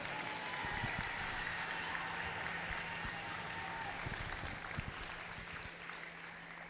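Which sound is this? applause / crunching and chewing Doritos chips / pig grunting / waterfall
applause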